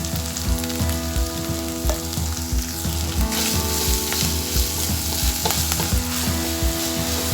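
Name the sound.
sautéing ginger garlic paste with turmeric in a pan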